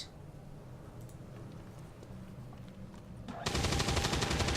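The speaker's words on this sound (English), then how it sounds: "Camille does with a heavy machine gun what most people fail to do with with an assault rifle" Heavy machine gun fire in XCOM 2 erupts after a quieter stretch of game ambience, a loud rapid sustained burst of shots filling the last second.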